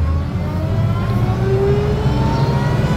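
A Jeep Wagoneer's L226 Super Hurricane six-cylinder engine drones steadily while driving, a continuous low mid-pitched hum with a slight rising whine, heard alone without talk.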